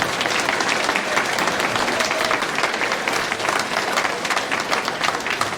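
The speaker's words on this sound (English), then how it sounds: "Can we have a big round of applause?" An audience at an 8th grade school awards ceremony at Fulton Junior High claps loudly, forming a dense, sustained wall of applause that holds steady from start to finish.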